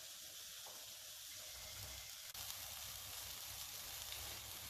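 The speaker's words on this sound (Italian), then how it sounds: "a cuocere le melanzane. Le lascerò cuocere 2 minuti per lato." Eggplant slices cooking in a pan, a faint steady hiss of sizzling throughout, quiet and unbroken apart from one brief click, with no talk.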